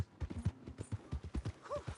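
Horse hooves clip-clop in a quick, even rhythm in Red Dead Redemption 2, close and distinct, with a brief higher squeak partway through.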